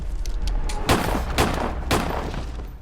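Gunshots in a film scene, three or four sharp bursts spaced about half a second apart over a low rumbling background, fairly loud and close.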